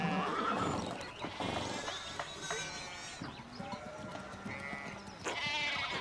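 A horse whinnies loudly and at length in the medieval video game Pentiment, its shrill, wavering neigh layered with other farm-animal calls and hoof clip-clops, filling the scene without speech.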